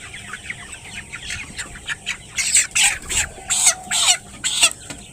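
A rooster on a farm squawks repeatedly as it is picked up, the cries rising louder and more frantic toward the end over soft background clucking.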